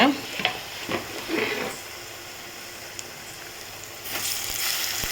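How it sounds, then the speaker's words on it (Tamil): Onions and tomatoes sauté in a pan for an okra stir-fry, a steady sizzle and hiss broken by a few scraping stirs near the start, close and clear with no voices. "தக்காளி பழத்தை சேர்த்துக்கலாம் சேர்த்து நல்லா வதக்கிக்கோங்க"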